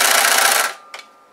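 A Viking sewing machine that sticks slightly and needs greasing runs with a steady mechanical whir for most of a second, then stops, leaving a brief click.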